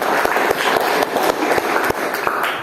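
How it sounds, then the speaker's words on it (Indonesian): Applause from a classroom of children after a group presentation: dense, steady clapping of many hands for a few seconds, close and fairly loud, with no talking. "berikan aplaus yang luar biasa ya"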